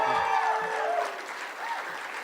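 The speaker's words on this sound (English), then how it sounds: "John Connell, he deserves a round of applause." An election night crowd breaks into applause for a Senate chief of staff, a moderate, continuous clapping that fades slightly toward the end, with some voices and faint cheering mixed in.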